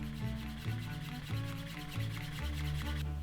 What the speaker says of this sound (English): So I'm just rubbing the wax on and then trying to burnish that wax in, melt it in almost.